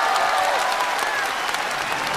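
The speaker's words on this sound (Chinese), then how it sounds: "我们掌声恭喜一下肖师傅" Studio audience applauding on a Chinese TV music show, steady dense clapping filling the whole moment with no break, loud and close.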